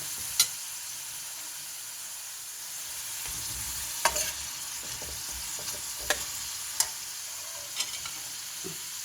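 Spicy pork with bamboo shoots and eggplant is stir-fried in a pan with a constant, close sizzle, while a spatula scrapes and taps the pan at irregular moments.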